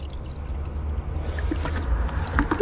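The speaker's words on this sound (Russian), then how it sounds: "И затем в раствор мы доливаем чистой водой" Clean water being poured into a fertilizer solution for feeding peonies, a low steady sloshing pour with small trickles and splashes that grow slightly louder toward the end.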